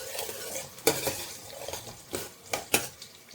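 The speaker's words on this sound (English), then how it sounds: "I add the garlic first." Garlic frying in a pot as the first step of a home-made chicken curry, a steady sizzle broken by several sharp stirring scrapes and clinks of a utensil against the pot, close and moderately loud.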